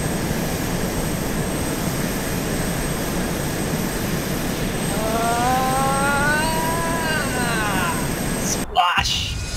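An aircraft in a steep nosedive in the video game ARMA 2 gives a loud, steady engine roar, with a rising, wavering whine swelling in the middle, then a sudden brief cutoff and jolt near the end.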